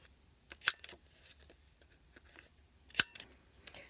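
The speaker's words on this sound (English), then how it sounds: "I have my trusty paper corner rounder, so I am just going to round the corners on these" A paper corner rounder punches the corners of small journaling cards, giving two crisp, sharp clicks a couple of seconds apart with faint paper rustling and handling sounds between them.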